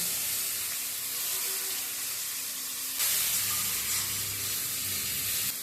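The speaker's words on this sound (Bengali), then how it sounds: "পেঁয়াজটা লাল লাল করে ভেজে নেব।" Onion frying in a pan with cumin and tomato, following fried fish, gives a steady close sizzle that grows louder and brighter about halfway through, with no voices.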